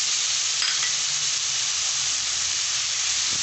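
Spices, garlic and onion fry in a pan with a loud, steady sizzle and hiss, close up, with a few faint stirring scrapes underneath.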